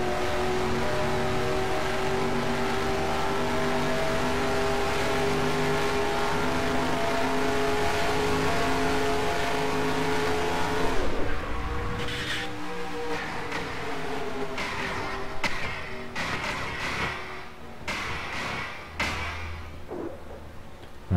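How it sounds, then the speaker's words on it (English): An on-board race car engine drones at high, steady revs in the NASCAR Racing 2003 video game, loud and constant, then shifts and breaks up into rougher bursts as the car crashes and flips. "the cars look really cool on board and the engine sounds better"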